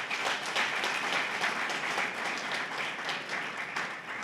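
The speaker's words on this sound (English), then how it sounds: "let us clap hands for that part" An audience at a welcoming ceremony for national order recipients in Port Elizabeth bursts into dense, sustained applause, many hands clapping steadily throughout at close range and fairly loud, with no talk over it.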